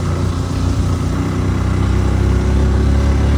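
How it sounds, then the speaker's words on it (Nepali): Motorcycle engine labouring up a very steep uphill road on the route from Dang to Sulichaur, a steady, loud, close drone with a low throb holding throughout, no voices. "बाइकले तान्ने नै थियो,"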